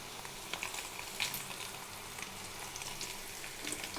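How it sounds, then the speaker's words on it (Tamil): Grated coconut, garlic, onion and curry leaves sauté in a pan, giving a faint, continuous sizzle with a few light stirring clicks and no talking. "இப்போ தேங்காய், பூண்டு, வெங்காயம், கருவேப்பிலை எல்லாம் போட்டு வதக்கியாச்சு."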